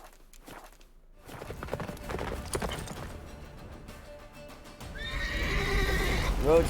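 Geralt's horse Roach in The Witcher 3 next-gen, neighing and with hoofbeats amid loud game music and effects, a whinny rising near the end, with someone talking over it.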